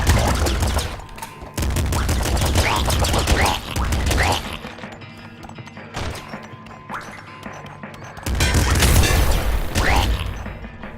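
Rapid gunfire and explosions from the video game Nuclear Throne, dense bursts of crackling shots and crashes with brief pauses between volleys, loud and upfront with no speech.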